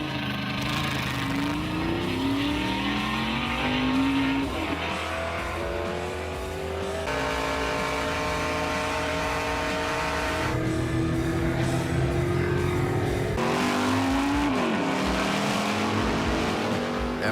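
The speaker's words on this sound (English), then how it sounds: "With Big Red firing on all cylinders again, RJ is ready to make another attempt at the 220-mile-per-hour mark" The Big Red Camaro race car accelerates hard at the Texas Mile, its engine note rising through repeated gear changes, loud and sustained with no talking.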